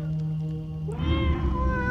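A cat meows in the horror video game Tormentum: Dark Sorrow, a single clear, drawn-out meow entering about halfway through over a low ambient drone.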